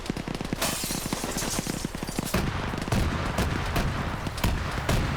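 Autocannon fire in a PvP combat video game, aimed at a vehicle locking down a road: a rapid, steady stream of heavy shots opens the scene, then gives way to dense, loud explosive rumble.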